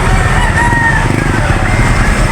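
A chicken clucks and crows close by at a Saturday morning poultry market in Lipa, Batangas, over constant loud engine-like noise, with the calls partly buried in the steady rumble.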